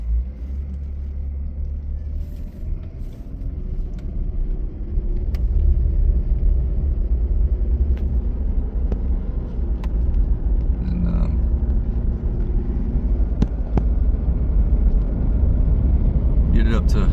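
A car with 197,000 miles drives along the road, its engine and tire rumble steady and loud, swelling slightly as it speeds up, with a person talking over it.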